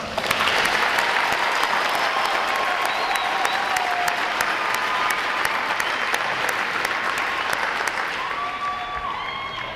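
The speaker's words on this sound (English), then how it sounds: "Let's give them another round of applause" Loud, continuous applause from a large crowd at a Navy recruit graduation at Great Lakes, many hands clapping evenly with faint cheering whistles above, tapering slightly toward the end.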